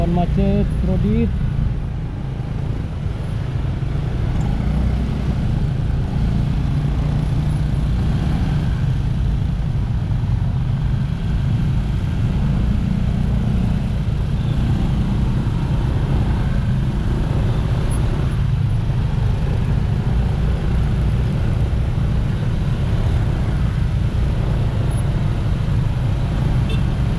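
Steady roadway rumble of congested traffic in Bali, with cars, trucks and buses idling and creeping close by in a continuous low drone, a brief horn toot near the start.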